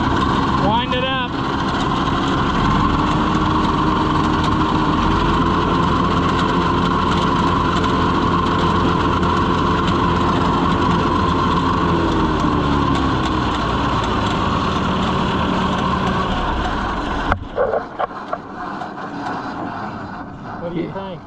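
Tractor engine revving hard to drive the PTO shaft of a New Idea 5209 mower, a loud, steady drone that holds for about seventeen seconds before cutting off abruptly, with voices heard over it.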